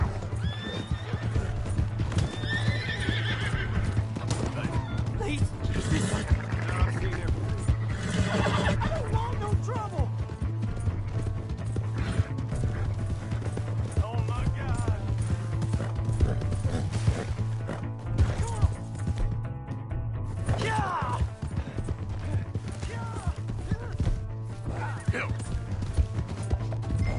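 A horse in the video game Red Dead, hooves clip-clopping steadily alongside repeated whinnying neighs over a constant low rumble, with voices talking throughout.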